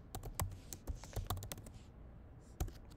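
Keys clatter on a computer keyboard as a folder name is typed, a quick burst of close clicks with short pauses between strokes, and no one speaks.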